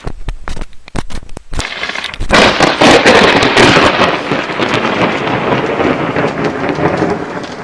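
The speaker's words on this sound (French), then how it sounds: "des coups de tonnerre très très forts et assez proches" Loud, close thunder from a storm in Corsica: sharp cracks in the first seconds, then a huge crash breaking into a long rolling rumble with rain hiss, fading slowly.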